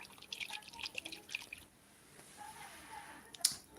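Water sloshing and dripping inside a shaken fresh coconut, in several soft wet bursts and squishes at first, then a quieter stretch with a few faint sloshes and a final sharper knock.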